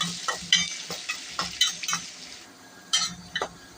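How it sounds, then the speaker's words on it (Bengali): Onions fry in hot oil in a pan for a beef liver and potato curry, sizzling steadily while a utensil stirs them, with several sharp scraping strokes against the pan. "এখন পেঁয়াজটা লাল করে ভাজতে হবে।"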